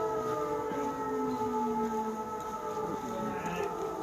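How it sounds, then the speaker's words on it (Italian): Air raid civil defense sirens wail in a prolonged, gloomy drone, their steady tones sliding slowly in pitch as they carry from a distance and hold continuously throughout. "Non so se sentite il suono delle sirene."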